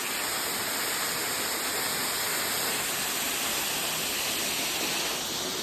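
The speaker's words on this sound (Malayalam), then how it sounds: "ഇവിടെ ഒരു വെള്ളച്ചാട്ടം ഉണ്ട്." A waterfall pours over forest rock near a village outside Ooty, giving a dense, unbroken rushing roar that stays loud and even from start to finish, with no voices.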